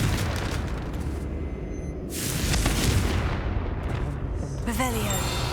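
A Confringo explosion spell in the video game Hogwarts Legacy bursts into a dense, loud rumbling blast that swells midway and lingers, with a faint rising magical tone near the end.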